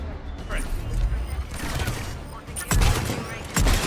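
Automated turrets in Mass Effect Legendary Edition on Cronos Station fire bursts of gunfire, with sharp loud shots near the end amid a busy battle mix and background talk.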